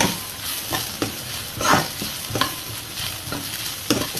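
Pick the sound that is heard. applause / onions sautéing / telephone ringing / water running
onions sautéing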